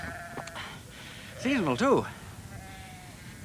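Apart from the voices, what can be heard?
sheep bleating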